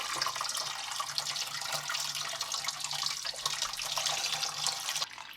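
Homemade grape juice drains steadily from a lifted straining bag: a continuous trickling, splashing pour that stays close and even throughout, then eases slightly at the end.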